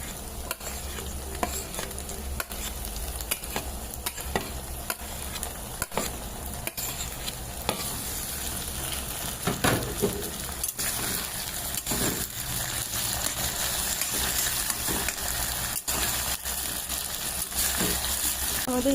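Sliced onions and tomato frying in a pan for chicken egg chow mein, a continuous sizzle broken by frequent sharp scrapes and clicks of stirring.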